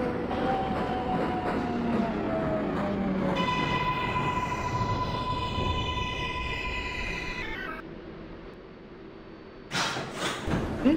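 An R188 subway train on the 7 express rumbles along in a train simulator, with a steady motor whine that rises in pitch before a rattling of wheels near the end.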